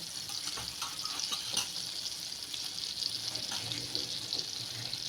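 Butter and oil heat together in a pan on the stove for Mumbai-style pav bhaji, giving a steady soft sizzle with faint scattered clinks throughout, no talk.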